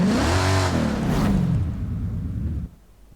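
Celine pickup truck engine in the video game Forza Horizon 5, a loud, close rev that climbs and falls, then settles to a rumbling idle and cuts off.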